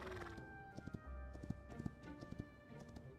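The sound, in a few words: horse hooves clip-clopping in video game Hytale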